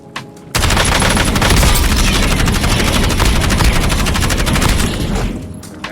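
Automatic gunfire in the video game Warzone rattles in a long, sustained, rapid burst, loud and close, starting abruptly and running for several seconds before tapering off.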